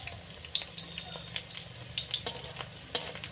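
Pointed gourd pieces fry in a pan with a faint, soft sizzle, broken by a few light clicks and scraping taps as they are turned.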